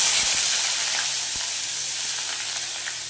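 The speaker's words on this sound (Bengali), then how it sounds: "এবারে এটাকে হালকা ভেজে নেব, একটু লালচে লালচে করে" Cut bitter gourd pieces sizzle and crackle in hot oil in a wok, a loud, steady hiss with occasional pops and a light stirring scrape, slowly easing in level, with no voices.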